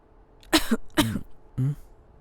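A woman coughs three times in quick succession, close and fairly loud, with short harsh bursts over a quiet room background.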